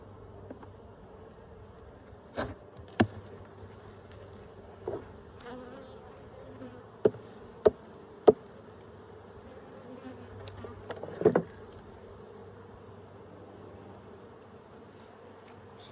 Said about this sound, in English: Oh, I'm seeing bees up here.